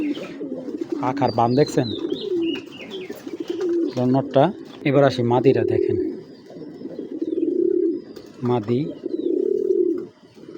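Giribaz high-flyer pigeons, a male and a female of a large breed, coo in repeated low throaty bursts close by while someone talks over most of them.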